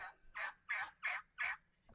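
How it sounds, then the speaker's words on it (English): A turkey gobbles in four quick, evenly spaced bursts, each a loud warbling rattle, close and clear against a quiet background. "This is a turkey."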